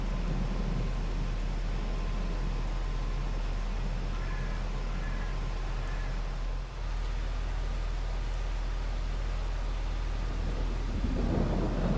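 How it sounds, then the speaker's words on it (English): Rain and thunder in the farming video game Court Farm: a constant heavy wash of rainfall with deep rolling thunder underneath, filling the whole stretch evenly with no speech. "My days, this rain is just not letting up."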